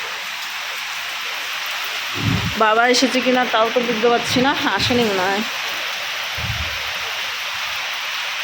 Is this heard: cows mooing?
no